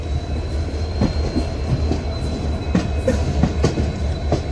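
A diesel locomotive hauls an Amrit Bharat Express along the rails near Madurai Junction, giving a steady close rumble with rhythmic clickety-clack wheel beats and occasional faint squeals.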